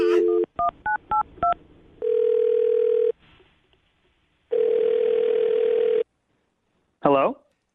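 A quick run of telephone keypad tones beeps out a number, followed by steady ringback tones with a pause between them.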